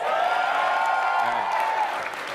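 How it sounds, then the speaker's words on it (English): A convention audience at PlayStation Experience claps steadily, with a few faint shouts and cheers mixed in, the applause fading slightly toward the end. "I need honest applause and, and yells"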